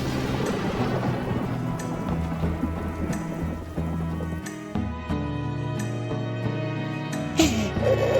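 A thunderstorm with rain, heard as a steady wash of rain with rumbling thunder, mixed with tonal background music.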